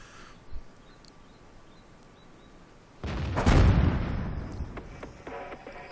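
A French self-propelled artillery gun firing in World of Tanks, a single heavy boom about halfway through that rolls off into a long fading rumble, after quieter ambient noise with faint bird chirps.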